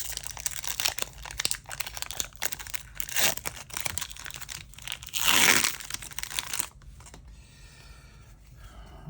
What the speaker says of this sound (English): Let's go ahead and open this pack of cards first.